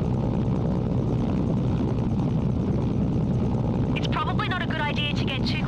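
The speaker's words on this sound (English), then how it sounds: "Chopper." Helicopter in the game Mercenaries: Playground of Destruction, a loud, steady, close rotor and engine thrum throughout, with someone talking over the last couple of seconds.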